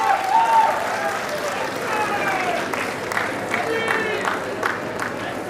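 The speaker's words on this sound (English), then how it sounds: "A huge round of applause for them" Scattered clapping from a crowd at a prize distribution ceremony rises and holds steady over a noisy hall, with voices and murmur mixed in.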